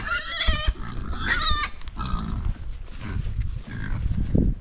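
Pigs on a New Zealand farm in Tauranga give close, rough grunts and snuffles mixed with squeal-like bursts, fairly loud and irregular, with no speech.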